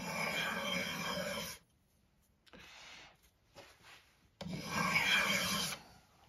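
A sharp steel scraper drawn over a wooden bow during tillering gives loud raspy rubbing strokes, a long burst, a quiet gap with faint scrapes, then another strong run of scraping close up.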